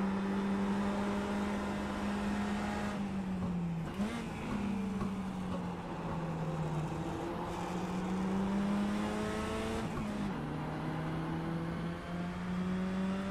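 A race car's engine drones from inside the cockpit at Mid-Ohio, a loud sustained roar that dips briefly twice as gears change, including the shift into third, then climbs again.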